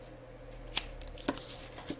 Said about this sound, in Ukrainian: Вирізаю підклейку.